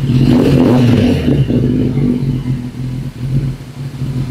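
A Kawasaki ZX10R motorcycle engine that had been showing error warnings starts and revs close by, a loud steady rumble rising and dipping through several throttle blips with no talking.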